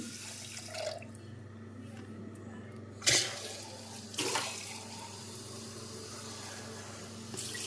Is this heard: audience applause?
no